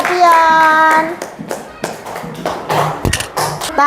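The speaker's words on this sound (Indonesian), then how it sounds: "Oke, kasih tepuk tangan untuk kelompok 4." Classroom students clap for a group after its presentation, scattered claps and hand taps close by, mixed with a voice and other chatter.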